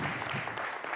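A short burst of dense, steady clapping from an audience at a stage presentation, sustained and fairly close, filling the whole moment.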